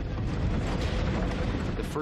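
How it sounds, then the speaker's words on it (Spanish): A deep, rumbling explosion shakes an airplane, roaring steadily and loudly, a sustained low boom filling the whole moment. "una violenta explosión sacude el avión"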